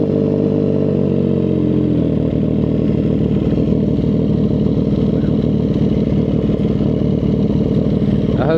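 A 2025 CFMOTO 675 SS motorcycle fitted with a full aftermarket exhaust runs loud and close, a steady throbbing engine note that shifts slightly early on and then holds evenly.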